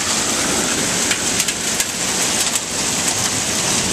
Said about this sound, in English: The hail.